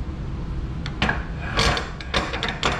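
A clamp handle on a vintage woodworking tool is cranked and tightened, giving a few short scraping, ratcheting mechanical bursts, close and fairly loud, with no talking.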